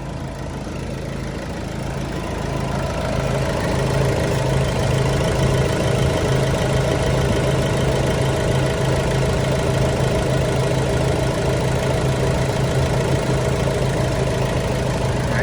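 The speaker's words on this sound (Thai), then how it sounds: "เสียงเครื่องเงียบมาก" A 2013 Nissan Navara pickup's engine idles steadily up close, a smooth low rumble with a faint rhythmic tick, running without pause for about fifteen seconds.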